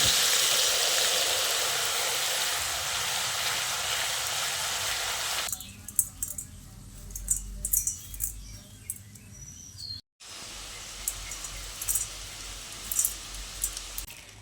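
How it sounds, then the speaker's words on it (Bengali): A dense, even sizzle of shredded potatoes deep frying in oil fills the first few seconds, then gives way to a quieter hiss with scattered clinks and small clatters. "এইভাবে আমি সব আলুগুলোকে ভেজে নেব।"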